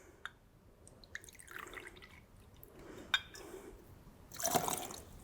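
Pinot Grigio white wine is poured into a bar measure, with faint drips and a short trickling splash near the end, quiet and close.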